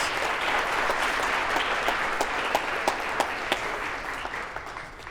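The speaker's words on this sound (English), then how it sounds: "let's give those student athletes a big round of applause" Warm crowd applause for student athletes at a Hall of Fame event, dense sustained clapping with a few sharper individual claps standing out, fairly loud and fading slightly at the end.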